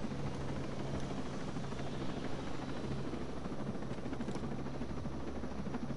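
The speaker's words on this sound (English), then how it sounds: "Yeah, you're getting this helicopter." Helicopter in the video game Ghost Recon Breakpoint, a steady, continuous rotor and engine drone with a low hum, fairly faint and unbroken, with no talking.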